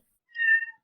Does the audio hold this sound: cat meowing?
yes